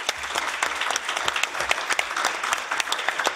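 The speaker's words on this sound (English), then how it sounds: "Yeah, you get applause for that from the commission." A plenary session audience claps steadily, with individual sharp claps standing out over a continuous wash of applause throughout.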